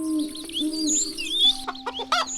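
Chickens cluck in a bedtime story scene, a busy chorus of hen clucks and chirpy bird calls over a steady tone, moderately loud with no talk.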